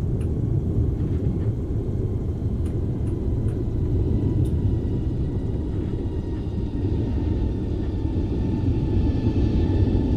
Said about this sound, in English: Think I hear the other plane coming now,